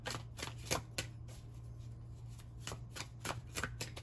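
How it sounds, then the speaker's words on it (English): A deck of tarot cards is shuffled by hand in a string of quick crisp riffles and taps, close and faint against a quiet room hum, with no talking. "let's go ahead and shuffle this deck up a little bit."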